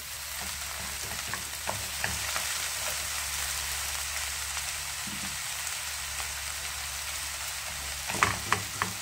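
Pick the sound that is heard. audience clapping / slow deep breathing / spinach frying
spinach frying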